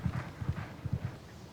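Hooves of a horse clip-clopping in a steady, even rhythm of about a dozen close, distinct thuds, heard alone with no talking.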